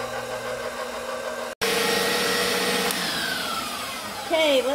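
Blender whirring as it mixes pumpkin bread batter with eggs, a loud steady motor drone that cuts out briefly, then restarts and runs on with shifting pitch before a voice comes in near the end.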